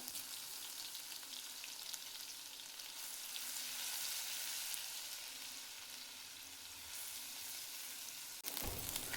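Garlic frying with cumin in hot oil, a bright continuous sizzle that swells and eases slightly, close and alone, ending with a sudden clunk.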